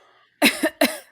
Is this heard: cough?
yes